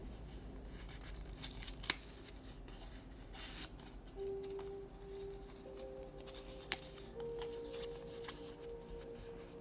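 Paper envelopes are dug through close up, with soft rustling and shuffling of paper, a sharp tearing crinkle near the start, and faint tonal hums in the background; nobody speaks.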